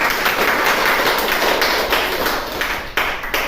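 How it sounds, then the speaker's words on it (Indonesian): Group clapping in a classroom after a debate, applauding the moderator; a dense, steady patter of many close hands with a couple of sharper claps near the end, no voices over it. "Beri tepuk tangan dulu untuk moderator kita."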